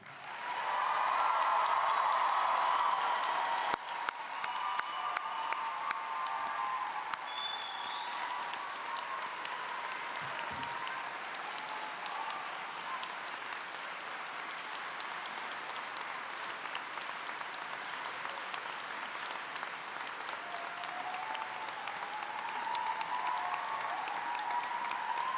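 A large graduation audience in an arena stands and applauds, a broad steady roar of clapping sustained for about twenty-five seconds at even loudness, with faint voices mixed in.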